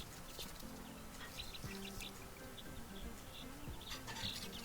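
Tiny White Americana blue-egg-laying chicks chirp faintly, with high peeps scattered across a soft background hum and no talking over them.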